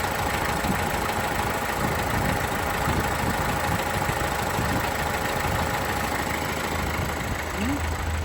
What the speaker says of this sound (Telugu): ఇంకా ఇంజిన్ నాయిస్ అబ్జర్వ్ చేయండి